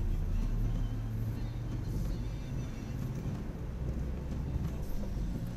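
A car pulling away at a junction during a driving lesson: a steady, close low engine rumble that holds throughout without clear gear changes or peaks.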